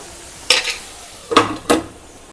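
Okra and raw prawn curry is stirred in a pan with three short scraping strokes, one at a time and close by, with quiet gaps between them and no talking.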